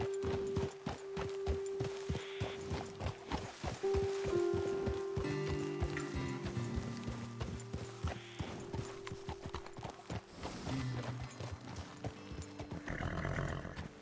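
Horse hooves clip-clopping during riding in Red Dead Redemption 2, a steady rhythmic trotting with an occasional whinny, layered under tonal game music throughout.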